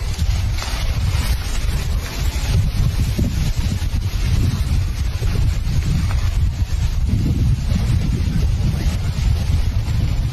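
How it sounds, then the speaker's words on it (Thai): Strong wind blows near a fire burning in Thailand, making a constant roaring rumble and buffeting the microphone for the whole stretch, with no talking. "ลมก็มาทางของเราพอดี"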